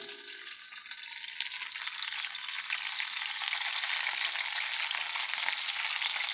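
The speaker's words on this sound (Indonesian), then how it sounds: "Ini kita goreng dulu petenya." Petai beans frying in a pan for sambal, a steady, dense sizzle that holds at an even level throughout, with faint stirring scrapes beneath and no voices.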